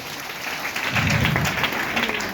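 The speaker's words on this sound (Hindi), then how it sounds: "मैं चाहती हूँ दोबारा उनके लिए ताली होना चाहिए।" Audience applause at a celebration event, a sustained dense clapping from a crowd that swells slightly in the middle and carries on steadily for a couple of seconds without speech.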